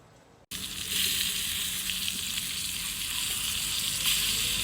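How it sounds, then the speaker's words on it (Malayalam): Chempalli fish frying in hot oil, a dense, steady hiss and crackle that starts abruptly and carries on loud and close without any talking. "ഇതിപ്പോൾ ചെമ്പല്ലി വറുത്തതാട്ടോ"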